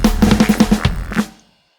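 A neuro-style drum and bass loop built in FL Studio plays about a second and a half of punchy kicks and snares over a gritty bass, then cuts off into silence.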